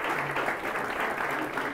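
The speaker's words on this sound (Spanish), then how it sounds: "Esto sí que ya merece un aplauso." An audience at a technical talk gives a short burst of dense, steady applause that fills the room briefly and evenly from start to finish.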